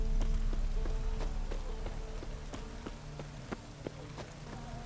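Rainfall in The Witcher 3: Hearts of Stone, a steady patter on surfaces with scattered sharp drop hits, layered under clopping hoofbeats and a low game ambience.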